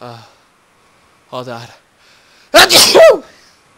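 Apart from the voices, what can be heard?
sneeze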